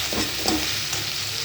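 Chopped tomato and flour sauté in a pan with cumin seeds for a fish curry, giving a steady close sizzle broken by a few scraping stirs near the start, with no talking.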